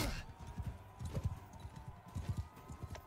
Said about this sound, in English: Hide behind the horse.